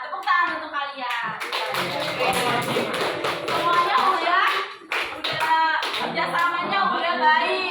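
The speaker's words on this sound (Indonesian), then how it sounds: "Tepuk tangan untuk kalian." Schoolchildren in a classroom clapping their hands together after a team game, a dense, loud burst of applause that keeps going for several seconds, with a teacher's voice and children talking over it.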